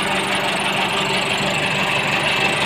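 A Massey Ferguson MF 275 tractor engine runs at a steady idle, a loud, continuous diesel chug with an even knocking rhythm, heard close up and alone.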